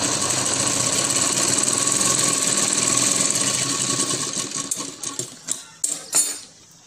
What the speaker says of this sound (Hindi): इस तरह हम हर 2 इंच पर एक सिलाई लगा लेंगे।